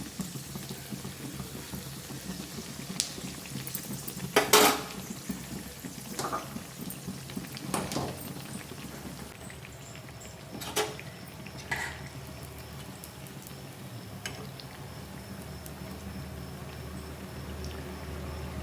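Buns frying in oil in a pan, a steady low sizzle and bubbling with a few sharper pops and crackles, fairly quiet and close, no talking.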